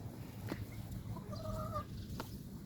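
Backyard chickens cluck softly in a small flock, with a few short calls rising over a low, steady outdoor background, fairly faint and without talk.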